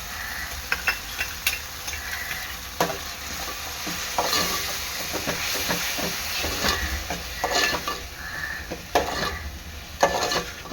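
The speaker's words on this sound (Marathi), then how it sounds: "आता ह्यामध्ये मी टाकणार आहे आपली टोमॅटोची पेस्ट" Tomato paste sizzles and fries in a pan for an Agri Koli style sour chicken curry. A steady hiss runs under repeated scraping strokes of a spoon stirring the pan, close and fairly quiet, with no voices.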